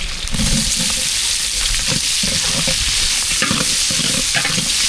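Onions sauté in hot oil with mustard seeds, a loud, constant sizzle broken by repeated scraping stirs of a spoon against the pan.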